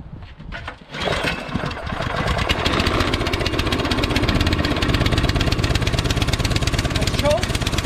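A Troy-Bilt Storm 2620 two-stage snowblower engine catches on a cold start at 28 degrees at full throttle and settles into a loud, close, steady chugging run with a rapid rhythmic beat.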